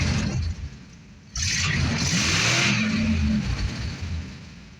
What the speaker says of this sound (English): See, it doesn't run all that bad, and it has a lot more power than the 318 that was in here previously.